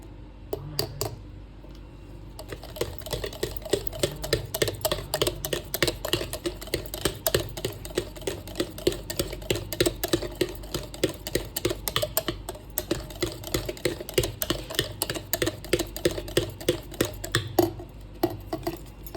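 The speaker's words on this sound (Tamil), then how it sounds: "எல்லாம் போட்டு நல்லா கலந்துக்கலாங்க" Rapid, continuous clicking and tapping of a utensil against a bowl, a steady brisk rhythm of mixing chocolate cake batter that goes on throughout.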